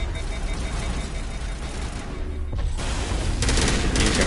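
Sustained automatic gunfire in the sci-fi shooter game Mass Effect, a dense continuous volley of shots blended with heavy combat noise, loud throughout with a brief dip midway.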